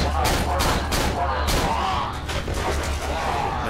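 Rapid gunfire bursts in the horror game Cry of Fear, several loud broadband shots in quick succession over a low rumbling background, with a voice speaking briefly among them.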